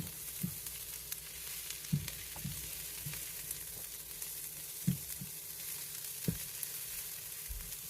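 Onions and mushrooms fry on a stove, a soft continuous sizzle broken by occasional low thuds and light taps of stirring, fairly quiet and without talk.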